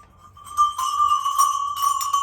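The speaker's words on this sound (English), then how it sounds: "I bought some more bells." Several chromatic bells ring out one after another, bright sustained tones with shimmering overtones, close and fairly loud, with no talking.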